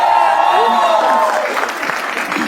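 A studio audience applauds loudly at the start of a comedy game show. Dense, close clapping and crowd noise run throughout, with toned sounds layered over it.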